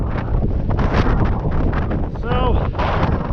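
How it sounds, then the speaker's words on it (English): Strong gusty wind on the slopes of Mt Princeton buffeting the microphone, a loud continuous rumble with surges throughout and a brief faint tonal whistle partway through. "was getting too windy up here"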